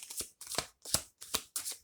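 Tarot cards being shuffled by hand, five quick riffling bursts in a steady rhythm with brief pauses between them, close and soft, no talk.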